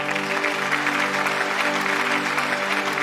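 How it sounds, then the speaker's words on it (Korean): Welcoming applause from an outdoor crowd at a residential complex event, loud continuous clapping throughout, layered over steady background music tones. "환영의 박수로 부탁드립니다."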